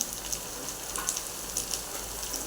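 Tomatoes and curry leaves land in a pan of softened frying onions, setting off a steady sizzle sprinkled with sharp pops and crackles that carries on close at a moderate level, with no talking.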